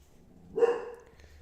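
A single dog bark, fairly close and moderately loud, rings out once in an otherwise quiet indoor room during a live painting session.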